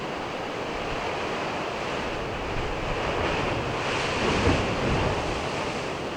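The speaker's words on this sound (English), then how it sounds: "this cave makes such a loud noise when a wave comes into it" Ocean waves surge and roar into a sea cave at Gibson Steps near Loch Ard Gorge, a steady rushing wash that swells into a deeper booming crash near the end.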